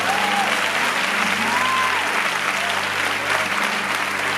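An audience at a church women's congress applauds in a dense, steady wash of clapping that fills the whole moment, with faint voices mixed in.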